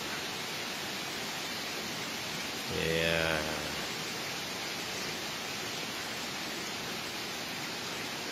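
Waterfall at a riverside coffee spot in Kampar, Riau, a steady broadband rushing roar that runs through the whole clip, with a brief spoken word partway through.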